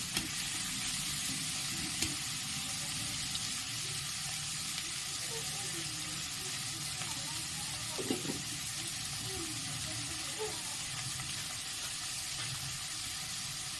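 Egg chow mein fries in a pan with a continuous hissing sizzle, joined by soft stirring scrapes and a couple of brief knocks, with no talk over it.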